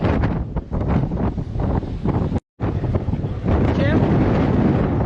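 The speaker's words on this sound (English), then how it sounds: "Just a little windy out." Strong, steady storm wind on a cruise ship's deck in the Pacific roars and buffets against the microphone, broken by a brief dropout midway, with a low rumble underneath.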